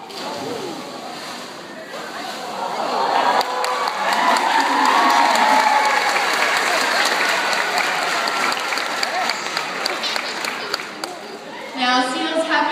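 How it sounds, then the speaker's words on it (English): A crowd watching a seal attempt a big jump bursts into loud sustained applause and cheering, with a voice talking over it and some water splashing nearby. "you've got to give him a big round of applause"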